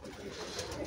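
Domestic pigeons coo softly and close by in a brief, low, rolling murmur with no other sounds.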